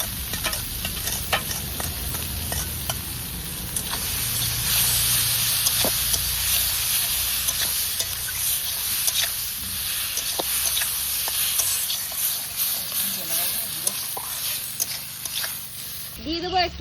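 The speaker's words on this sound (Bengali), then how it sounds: "এবার এর মধ্যে এই যে ফুলকপি আলুটা সিদ্ধ করে রাখা এটা দিয়ে দেবো।" Boiled cauliflower and potato stirred into a pan with chopped chili and tomato, a continuous loud sizzle with scraping spatula strokes, with a voice talking at times.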